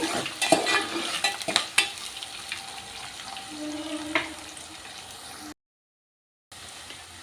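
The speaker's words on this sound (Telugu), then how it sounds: "ఇలా ఆనియన్స్ అన్నీ కూడా కొంచెం మగ్గే వరకు కలర్ చేంజ్ అయ్యే వరకు ఇలా దూరగా ఫ్రై చేసుకున్నామండి" Sliced onions fry in an oily pan for Nellore-style fish curry, a steady close sizzle broken by sharp spoon clinks and stirring scrapes, fading before a short silent gap.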